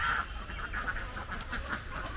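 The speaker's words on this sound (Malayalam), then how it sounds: "See the amount of how many ducks are there." A flock of domestic ducks at a duck swimming pool quacks and honks in a dense, continuous chorus, nearby and moderately loud.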